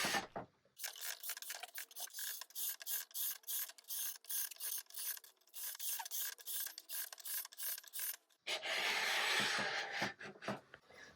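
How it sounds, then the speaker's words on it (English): Steel wool scrubs varnish off a wooden chair seat in rapid, rhythmic rasping strokes, close and continuous with brief pauses, ending in a steadier, harsher rub. "We're going to take some of the steel wool to remove some of the varnish"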